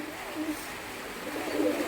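A Giribaz pigeon coos softly in low, murmuring tones, faint and close, with a few brief coos standing out against a quiet hiss.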